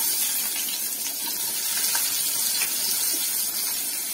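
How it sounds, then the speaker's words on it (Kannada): Onions frying in hot oil in a pan for a Karnataka-style gourd gravy: a steady, bright, hissing sizzle with faint crackles, close by and continuous, with no talking. "ಈರುಳ್ಳಿನ ಫ್ರೈ ಮಾಡ್ಕೊಳ್ಳೋಣ ಚೆನ್ನಾಗಿ"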